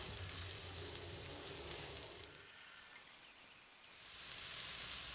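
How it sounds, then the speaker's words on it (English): Minced shallot frying in extra virgin olive oil over medium heat, a steady faint sizzle with light crackling and a few soft stirring clicks, alone with no talking. "Add 3 tablespoons of extra virgin olive oil, 30 grams of minced shallot, and stir until fragrant."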